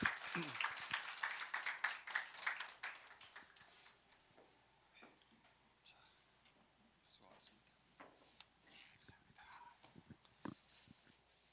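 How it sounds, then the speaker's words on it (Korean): A church congregation at a Sunday service claps in a burst of applause that fades after a few seconds, followed by sparse sounds and a speaking voice. "우리 하나님께 영광의 박수 올려드리도록 하겠습니다"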